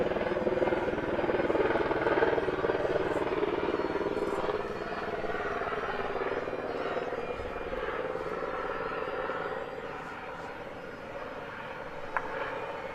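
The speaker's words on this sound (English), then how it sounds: "Do you often get helicopters flying low like that?" A low-flying air ambulance helicopter passes over a women's singles final outdoors, its broad engine and rotor roar steady and loud throughout with no talk.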